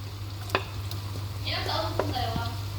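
Garlic hits hot oil in a pan for vegetarian pansit bihon, a soft sizzle swelling up partway through along with a few light clicks of a utensil against the pan, over a steady background hum.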